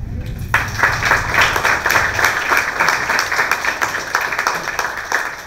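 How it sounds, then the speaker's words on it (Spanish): Crowd applause greeting a performer at a regional final pageant in Guna Yala, Panama, bursting in after a low rumble and holding as dense continuous clapping, fairly close, with faint voices underneath. "Aprovechamos el espacio para recibir con un fuerte aplauso al Zaila de la"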